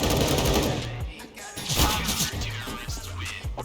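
Rapid gunfire crackles in the video game CS:GO, several close, sharp bursts and single shots fired in quick uneven succession over a busy game soundscape.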